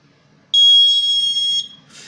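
A buzzer alarm on an automatic irrigation control project sounds one shrill, steady electronic tone lasting about a second, loud and close against a quiet background.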